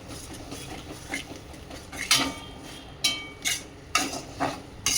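A spoon stirs pasta seasoning, black pepper and salt in a pan for Indo-Chinese chicken pasta, giving a run of close scraping strokes and soft clatters at an uneven rhythm.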